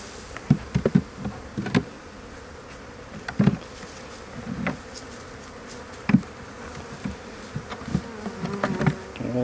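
Honeybees in an open hive being inspected, a soft continuous buzz close by, broken by frequent sharp knocks and clunks of frames and hive parts at irregular intervals.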